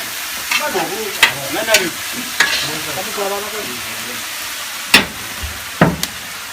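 Garlic and ginger fry in a pan for a civet, giving a soft sizzle broken by a few sharp stirring scrapes, close by, while a person talks over it.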